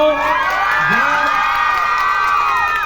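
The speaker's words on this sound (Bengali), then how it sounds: "আমি সবাইকে বলবো একটু জোরে হাততালি দেওয়ার জন্য" A crowd cheers and shouts continuously at the inauguration of a 72-foot Durga Puja in Gobindapur, Ghatal, with whoops and raised voices. The sound is loud and dense, and any clapping is buried in the noise.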